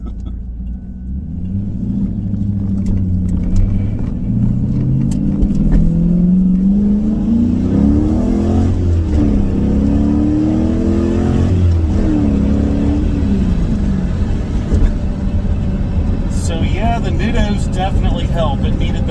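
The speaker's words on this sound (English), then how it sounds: "that was just a granny shifting first to second gear pull" A 1983 Pontiac Firebird SE with a 5.7 LS1 V8 and T56 six-speed pulls gently in first, its engine rising in pitch before a brief dip as it shifts into second and climbs again, a steady close rumble throughout.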